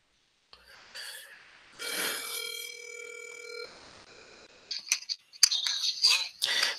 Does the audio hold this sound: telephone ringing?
yes